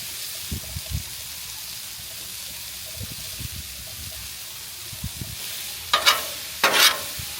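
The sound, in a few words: stirring vegetables sizzling in bacon grease on a griddle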